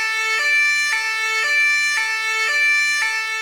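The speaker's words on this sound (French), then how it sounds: "Maintenant, écoutez cette sirène de police." A loud two-tone police siren alternating between high and low pitches in a steady rhythm, heard close up from inside the police car, with no talking.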